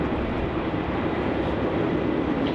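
Virgin Australia flight VA217, an airliner, departs Melbourne Airport for Adelaide with a steady, loud broadband jet roar that holds evenly throughout, with no voices.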